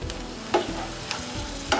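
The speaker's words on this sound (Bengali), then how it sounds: "ভাজা হয়ে গেছে পেঁয়াজ, মরিচ ও রসুন" Onion, chili and garlic browning in oil for beef kala bhuna, a steady close sizzle with a few sharp scraping strokes of a spoon stirring the pan, no voices.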